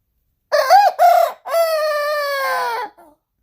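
A young rooster lets out a loud, close crow in three segments: two short opening notes, then a long drawn-out final call that trails off into a small squeak.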